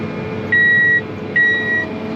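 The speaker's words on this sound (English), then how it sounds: "Monitor's beeping all the time," Two sustained electronic beeps from a planter monitor sound in succession, each about half a second, over a steady engine rumble during corn and soybean planting.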